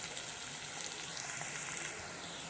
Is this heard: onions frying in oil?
yes